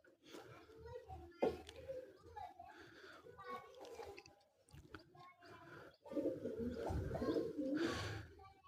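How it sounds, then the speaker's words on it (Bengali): Pigeons coo outdoors after bathing and while sunning themselves, soft repeated coos close by, mixed with children's voices and talk throughout. "কত সুন্দর কবুতরগুলো আমার বাইরে। এইমাত্র ওরা গোসল করছে, গোসল করে এই অবস্থায় রোদ পোহাচ্ছে।"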